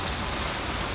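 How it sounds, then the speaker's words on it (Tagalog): Heavy rain pours down hard on an outdoor spot with a koi fish pond, a dense, loud and unbroken roar of falling water that fills the whole moment with no other sound. "Lakas ang ulan."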